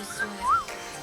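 A person gives a short two-note whistle, a quick rising chirp followed by a louder swooping note, heard close over faint background noise.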